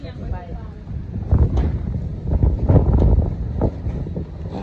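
Gusty wind buffets a camping tent and the microphone in a steady low roar that swells and eases, with people talking over it throughout.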